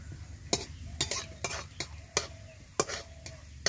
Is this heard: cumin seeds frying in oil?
yes